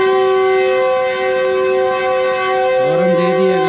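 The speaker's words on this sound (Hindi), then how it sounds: "हॉर्न दे दी है गाड़ी ने" The Subak Raftar Express, travelling from Lahore to Gujar Khan, sounds a loud, steady, tonal horn that holds unbroken for several seconds, with a second pitched tone joining near the end.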